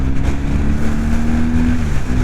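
Strong wind in Patagonia buffets steadily against the microphone with a low roar, mixed with a droning engine-like hum.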